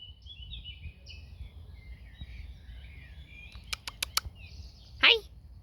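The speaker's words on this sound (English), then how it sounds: "there's a bird" A bird flying and chirping in a garden: faint high twittering calls early on, then a few sharp wingbeat flutters and a brief louder call, all over quiet outdoor ambience.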